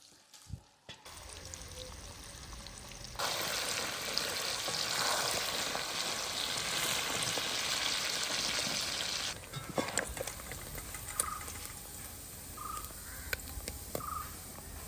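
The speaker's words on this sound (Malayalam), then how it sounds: "ഇനി നമുക്ക് ഓരോ ചാള വീതം ഇട്ടിട്ട് നന്നായിട്ടൊന്ന് ഫ്രൈ ചെയ്യാം" Sardines fry in hot oil for a Kerala-style sardine pickle, with a steady close crackling sizzle that swells loudly after a soft start and eases later, with a few faint pops on top.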